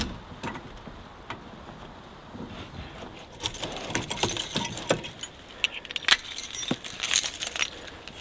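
Frozen chains handled outdoors at a winter campsite beside a travel trailer, giving metallic jangles and clinks, sparse at first and then busier and louder in clustered bursts.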